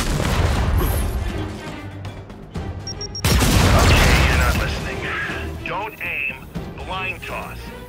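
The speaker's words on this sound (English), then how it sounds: "keep your head down and blind toss the grenade" A frag grenade is blind-tossed from cover in Gears 5 boot camp and goes off in one loud, deep blast midway, amid ongoing gunfire, mechanical clanks and talking voices.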